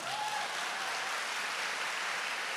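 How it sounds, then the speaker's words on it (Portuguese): A church congregation applauds during a Catholic priest's homily on baptism and prophecy, a steady wash of many hands clapping at once, dense and even, with no gaps for its few seconds. "Você quer aplaudir? Aplaude então, direito."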